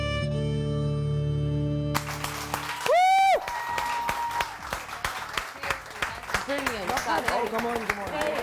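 A studio audience on a morning TV show bursts into sustained clapping for Mavia after a short musical tone, with voices talking and calling out over the steady applause.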